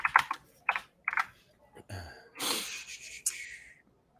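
Quick bursts of computer keyboard typing clatter close by, three short clusters of key clicks followed by breathy noise and rustling.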